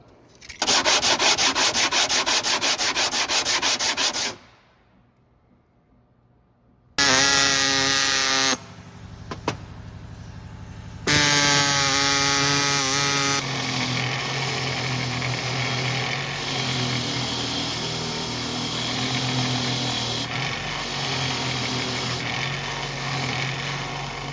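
Power sanding and wire-brushing of front brake pads and the wheel hub on a 2003-2008 Pontiac Vibe / Toyota Matrix, loud harsh grinding in long bursts broken by short pauses, then a steadier abrasive whir.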